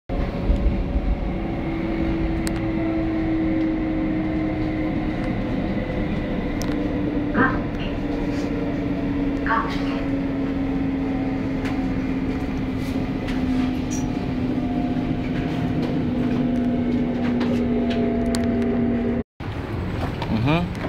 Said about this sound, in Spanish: Este es el metro, bien bonito, nada de ruido.